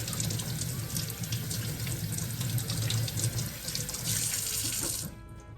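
Shrimp rinsed under a running kitchen tap, a steady close splashing stream of water into a sink that cuts off abruptly near the end.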